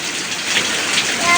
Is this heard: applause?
no